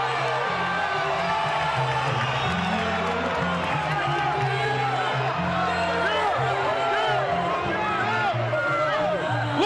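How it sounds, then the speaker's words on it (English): A boxing arena crowd roars and whoops wildly at a De La Hoya–Mayweather fight, dense and sustained cheering with a commentator talking over it throughout. "The crowd is going bonkers."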